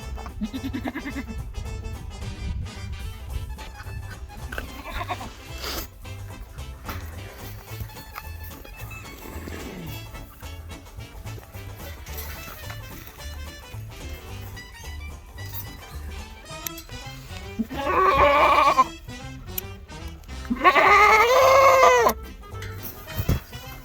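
Goats bleat on a homestead during hoof clipping, with loud, wavering cries near the end over a busy background of movement and shuffling.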